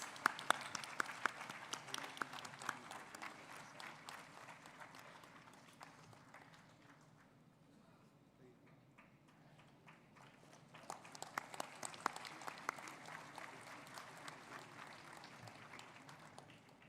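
Scattered applause from an audience at a start-up conclave, faint and distant, fading to near quiet midway before picking up again toward the end.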